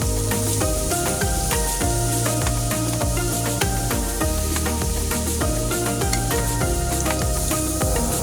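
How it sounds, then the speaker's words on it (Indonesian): Ground garlic sizzling in hot oil in a wok, with steady frying crackle and repeated scraping stirs of a utensil against the pan. "Setelah itu aduk-aduk bawangnya sehingga menjadi kecoklatan."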